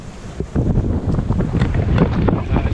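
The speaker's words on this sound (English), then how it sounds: "Wind's just dying a little bit now, back down to 9 knots" Steady wind buffets and rushes across a Cape Henry 21 sailboat crossing Gulf St Vincent at around 9 knots of breeze, a continuous broadband roar with gusty swells and water noise, no voices.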